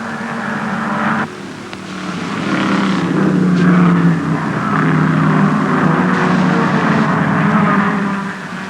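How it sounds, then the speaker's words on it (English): Big saloon cars race around a circuit through Druids and Paddock Bend, led by Sanger's V8 Cortina, producing a loud, continuous engine roar that swells and shifts as the cars pass, with a brief dip early on. "we come to the big saloon car race."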